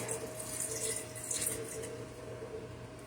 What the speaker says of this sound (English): I put my water in the jar to get all of the last spaghetti sauce in there. And I'm just going to pour that over the entire thing